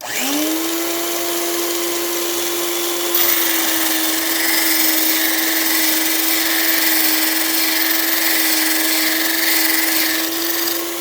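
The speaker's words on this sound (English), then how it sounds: "So now you turn it on, and then you put this in, and you just rotate this until it's sharpened." Electric drill bit sharpener running with a steady motor whine, its grinding hiss rising as a drill bit is pressed in and rotated against the stone, continuous and close.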